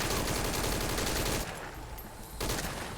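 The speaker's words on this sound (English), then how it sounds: "Gunfire. No fix on the position." Gunfire crackles in a dense, loud, continuous burst, dips briefly for about a second, then resumes, with no voices in between.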